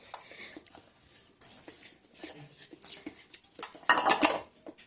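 Wheat flour mixture with sesame seeds and coriander being mixed with oil in a bowl, producing irregular scraping, clinking and soft wet patter of utensil against the bowl, moderately close with no speech.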